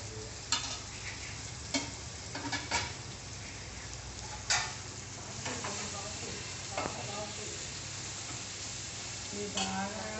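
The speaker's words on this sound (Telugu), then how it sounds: "ఆయిల్ గరం అయినాక ఉల్లిపాయలు వేసుకున్నాం." Onions sizzling steadily in hot oil on a street-food stall, a continuous crackling fry broken by occasional louder spits and stirring clatter, with no voices.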